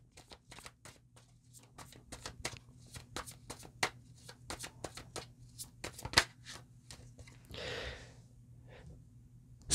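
Occult Tarot cards being shuffled and drawn up close, a rapid run of crisp flicks and slaps, with quiet breathing and a softer rustle near the end.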